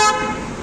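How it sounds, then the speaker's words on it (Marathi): A horn honks once at the start, a short bright toot from a passing vehicle on the Mumbai–Goa highway, fading quickly into a low road rumble. "हॉर्न वाजवला."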